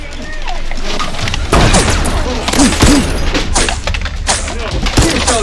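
Foam-dart Nerf blasters fire repeatedly during a chaotic indoor battle, with sharp pops and thuds scattered through the clip while excited voices shout over the shots.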